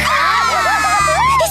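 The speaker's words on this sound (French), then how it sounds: "Et n'oublions pas les cris, bien sûr." Loud, high-pitched cartoon screaming from animated characters at a tropical beach setting, with wavering shrill voices rising and falling continuously for about a second and a half.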